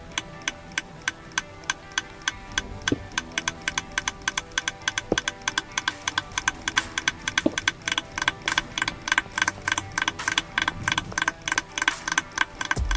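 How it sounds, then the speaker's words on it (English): Rapid, steady clicking from a redstone contraption in Minecraft, a dense run of sharp ticks that speeds up and grows louder, with a few faint thuds underneath. "this makes a really obnoxious clicking noise"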